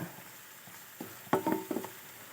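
Thick koorka curry gravy is stirred in a pan, with a few soft, brief scrapes and thick squelches bunched together in an otherwise quiet moment.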